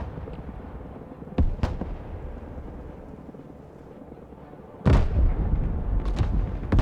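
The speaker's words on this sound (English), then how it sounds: "Almost hit by a ballistic missile." Ballistic missile explosion in the video game Broken Arrow: a low rumbling battlefield bed with a couple of sharp cracks, then a sudden loud blast near the end followed by sustained roaring, crackling aftermath.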